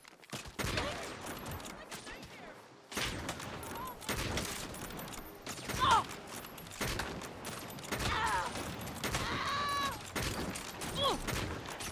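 Gunfire in a Saints Row co-op game: bursts of close, rapid shots come in clusters with short pauses, joined by clattering mechanical sounds, while voices talk over the action.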